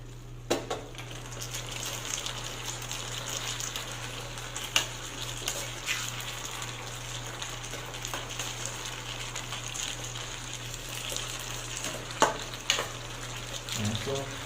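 Broccoli stir-frying in a pan with oyster sauce, a low steady sizzle running throughout with occasional sharp clicks of a utensil against the pan.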